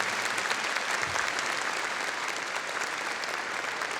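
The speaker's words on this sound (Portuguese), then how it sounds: "a gente tem que dar uma salva de palmas para Jesus" A church congregation applauding during a prayer gathering: dense, sustained clapping from many hands, steady and fairly loud throughout with no break.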